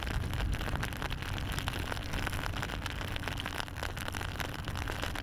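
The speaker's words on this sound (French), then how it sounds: "vous puissiez constater à quel point il pleut sur ce circuit de la route Adélie de Vitré" Heavy rain pours down on the road cycling race circuit of the 2021 Route Adélie de Vitré, a steady, dense broadband hiss that holds at an even level throughout with no voices.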